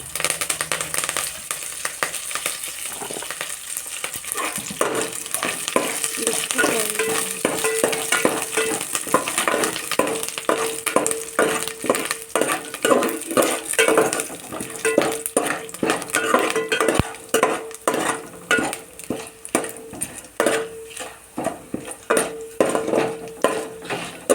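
Dry red chillies and curry leaves frying in hot oil for a tempering, a steady crackling sizzle with repeated scraping and stirring of a utensil against the pan, close and continuous throughout.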